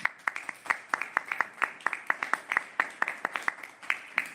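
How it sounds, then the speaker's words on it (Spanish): A small audience at a book presentation welcomes the puppeteer author Fede Abarca with distinct, close claps in a quick, slightly uneven rhythm that lasts throughout, with no voices over it. "lo recibimos con un aplauso"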